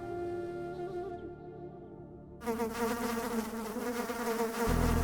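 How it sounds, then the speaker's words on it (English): Insects buzzing close in a continuous drone, thin and steady at first, then thicker and louder with several wings overlapping, like flies or mosquitoes circling near the ears, with no talk. "Bugs in my head, buzzing around in my ears, in my head."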